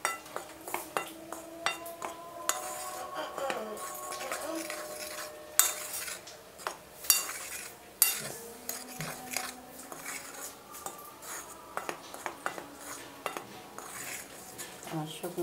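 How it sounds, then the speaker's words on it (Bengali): Dry ingredients for potato wedges are stirred in a bowl, a spoon clinking and scraping against the sides in quick, irregular taps and swishes that are close and moderately quiet. "শুকনো উপকরণগুলো মিলানো হয়ে গেছে"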